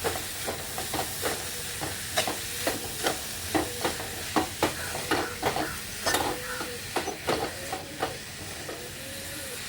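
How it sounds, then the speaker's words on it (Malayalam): Beetroot thoran stirred in a pan of hot oil with popped mustard seeds, giving steady frying sizzle with repeated spoon scrapes and clinks in a regular rhythm, close and clear, with no talking. "കടുക് കൊട്ടി വന്നിട്ട് തോരണം ഇട്ട് കൊടുക്കുന്നുണ്ട് നമുക്കിതിനൊന്ന് ജസ്റ്റ് ഒന്ന് ഇളക്കി കൊടുക്കാം"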